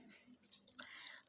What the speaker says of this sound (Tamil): அப்பளம் முறுக்கு கேரட் எல்லாம் கடிச்சு நொறுக்குவேன், பல்லால் கடிச்சு நொறுக்குவேன்